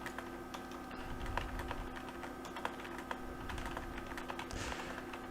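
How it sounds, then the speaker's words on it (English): Quiet, rapid keystrokes tap away on a computer keyboard in an irregular rhythm over a faint steady hum. "I'm typing."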